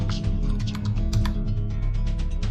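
Rapid typing on a computer keyboard, with a steady stream of close, crisp key clicks that runs unbroken and uneven in pace, and no talking over it.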